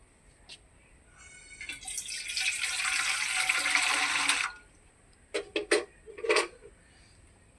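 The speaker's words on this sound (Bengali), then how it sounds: "চালটাকে আমি ভালোভাবে ধুয়ে নিয়েছি, এখন জলটাকে ঝরতে দেব।" Water pours and drains from a batch of washed nonia rice in a home kitchen, a steady splashing rush for a couple of seconds, then a few brief drips and clinks.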